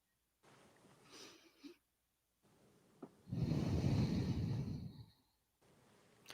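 Shallow, restricted breathing of someone with tightness or injury: a short weak inhale, a pause, then a fuller but still brief exhale, close to the microphone and otherwise quiet.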